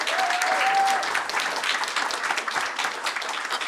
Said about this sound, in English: Je vous demande, mais avec toute l'énergie que vous avez, de les applaudir très très fort.